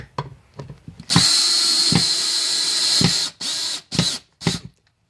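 A power drill drives screws to mount a coat rack on a wall, with a long steady whirr followed by several short bursts, loud and close, no talking.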